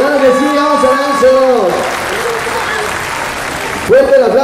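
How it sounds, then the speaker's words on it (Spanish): Audience clapping at a Coyoacán charity event against cancer, a burst of applause mid-clip between a loud amplified voice calling out over the crowd before and after. "¡Fuerte el aplauso!"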